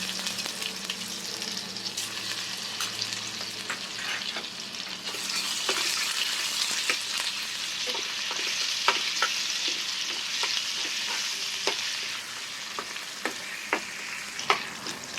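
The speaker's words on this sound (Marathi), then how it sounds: "भाजीसाठी मसाला मी फ्राय करते. आधी गरम मसाले टाकले, आले लसूणची पेस्ट," Garam masala and ginger garlic paste sizzling steadily in hot oil, with a spoon repeatedly clicking and scraping the pan as it is stirred, close and continuous.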